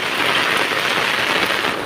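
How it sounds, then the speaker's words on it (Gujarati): Very heavy rain pours down in a village in Banaskantha, a loud, dense and unbroken roar of water close by, with no voices over it. "વાતાવરણમાં આજ ભૂકા કાઢી નાખે એવો વરસાદ પડી રહ્યો છે"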